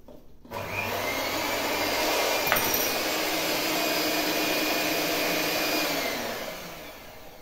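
An electric hand mixer beats pumpkin sponge cake batter with a loud, steady whirring drone that starts abruptly, holds for several seconds, then winds down.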